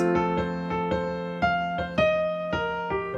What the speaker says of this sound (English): Or maybe you're using some simple thirds.